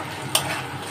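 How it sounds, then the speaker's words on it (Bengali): Onions with salt added fry in a pan for fish curry, a close, continuous sizzle with one brief sharp scrape of stirring partway through. "পেঁয়াজটা একটু লাল লাল করে নিই"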